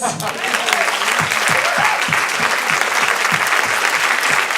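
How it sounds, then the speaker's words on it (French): Dense, sustained audience applause in a Paris cinema at the premiere of the 2012 French film Amour et turbulences, a loud, steady wash of many hands clapping close by, with a voice faintly mixed in. "Je vous demande d'applaudir encore une fois pour lui, parce que c'est vraiment la première fois."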